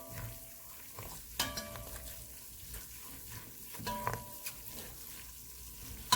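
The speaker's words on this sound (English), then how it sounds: "we're just going to keep stirring, guys. Stir it all the way." Lobster and shrimp pasta is stirred in a sizzling pan, with a soft continuous fry hiss broken by intermittent scrapes and clinks of a utensil against the pan.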